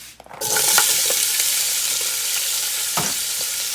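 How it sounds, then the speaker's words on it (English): Chopped onion hits hot oil in a pot beside drained spaghetti pasta and breaks into a loud, steady sizzle, with a few scraping stirs from a utensil. "So now I'm gonna put my onion in this oil."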